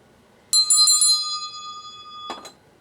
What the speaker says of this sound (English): let me ring the bell